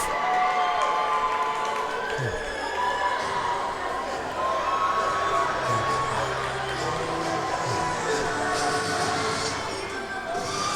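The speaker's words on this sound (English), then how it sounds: "Crowd will be making some noise right now for some free t-shirts" A large crowd at a men's college basketball game cheers and shouts continuously at a steady, moderately loud level, echoing as in a big arena.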